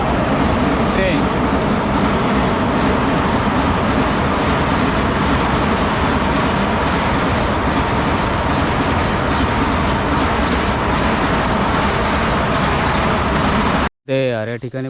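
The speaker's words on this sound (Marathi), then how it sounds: "ट्रेन." A train rolls past at close range beside wheat fields near the Narmada riverbank, a loud continuous rumble and clatter filling nearly fifteen seconds before cutting off abruptly near the end.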